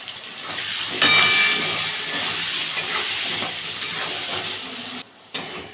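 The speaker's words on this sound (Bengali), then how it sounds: "আলুটা ভেজে নেব সামান্য নুন সামান্য একটু হলুদ দিলাম" Potato pieces with a little salt and turmeric fry in a pan with a steady sizzle and scattered sharp crackles, close and fairly loud, briefly dropping out near the end.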